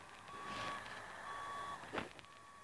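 Reversing beeps sound from a truck maneuvering in a truck-driving video game, three evenly spaced steady beeps at a faint level over quiet engine hum, with a brief whoosh between them.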